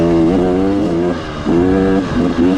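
Two-stroke motorbike engine fitted with an RK Tek piston and head, new crank and a Scalvini pipe, running rich and burbling loudly up close, its revs rising and falling in several swells.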